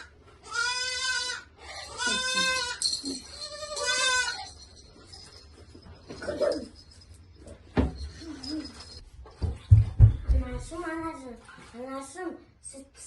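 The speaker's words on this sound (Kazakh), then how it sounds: "Мынау енді сенің лағың Мынау сенің лағың болады енді." A young goat kid bleats several times in quick, loud, nearby cries, followed by people talking and a few knocks and clatters.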